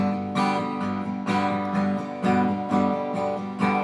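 An acoustic guitar is strummed in steady eighth notes: bright, full chords in a regular down-up pattern with accented strokes recurring, close and alone without voices.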